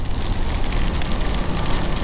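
Heavy rain pelting down during a motorcycle ride, a dense steady broadband roar with wind and road noise blended in, constant and close throughout.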